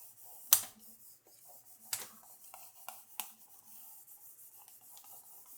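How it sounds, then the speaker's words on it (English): A squeegee rubbing a DTF transfer onto wood, heard as soft, close scraping and scuffing strokes with a few sharper clicks at irregular intervals, faint overall and without talking. "just going to go ahead and use my squeegee and just make sure it is adhered really good on that wood"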